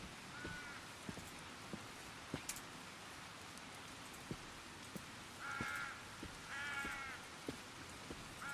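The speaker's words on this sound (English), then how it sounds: "The sound of the crows." Crows caw in the Book of Travels video game, a few scattered calls at middle distance over a faint steady background of rain or light patter.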